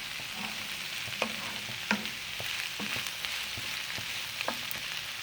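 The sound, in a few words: bell peppers sautéing and being stirred in a pan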